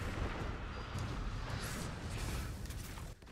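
The fire implosion ability goes off in the video game Destiny 2 as a sustained, roaring blast rumble. It holds steady, then dips briefly near the end.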